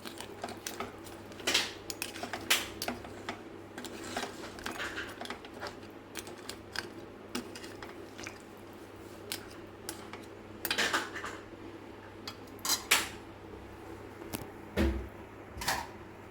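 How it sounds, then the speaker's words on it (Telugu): A ladle stirs tamarind juice in a cooking pot, giving irregular metallic clinks and scrapes with quiet sloshing in between. The sounds are close and fairly soft, with no talking. "చింతపండు పులుసు వేసుకున్నాక మనం గరిటె పెట్టి కలుపుకోవాలి."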